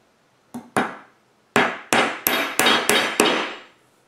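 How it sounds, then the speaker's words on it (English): Seven sharp hammer taps drive 3/4 inch nails into a wooden beehive frame, close and loud, two quick strikes then a pause before a steady run of five. "Give it a little tap. And for this I use the 3/4 inch nails, and I get 2 on each end."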